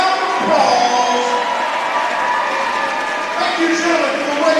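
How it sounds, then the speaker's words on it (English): A gym crowd at a boys' high school basketball game applauds and cheers the state championship team in a steady, full roar with scattered whoops, all under announcer talk. "Give them one more big round of applause."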